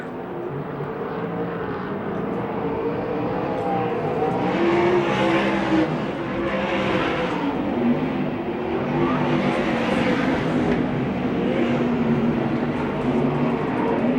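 USAC/CRA sprint cars race at Phoenix, their engines a loud, steady roar that swells and fades as several cars pass close by, with no talk over it.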